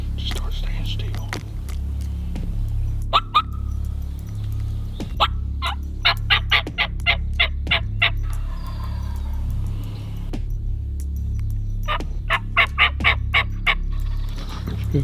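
A wild spring turkey close by in New England woods gobbles in several sharp, rattling bursts, some single and some in rapid runs. Hushed voices murmur underneath between the calls.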